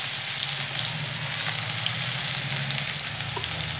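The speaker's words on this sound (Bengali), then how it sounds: "আমার তেল গরম হয়ে গেছে তো পেঁয়াজ কুচিটা দিয়ে দেব।" Chopped onion hits hot mustard oil and fries with a loud, even, hissing sizzle that holds steady from start to finish, close up and unbroken, with no talking over it.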